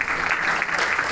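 An audience at an Urdu competition in Sitamarhi, Bihar, applauds schoolgirls with a steady wash of clapping, fairly loud and continuous over a short stretch.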